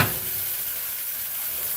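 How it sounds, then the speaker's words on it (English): Buffalo chicken stuffed spaghetti squash frying in a hot pan gives off a steady, close, fairly loud sizzle and hiss that holds evenly throughout, with no talking. "Little sizzling"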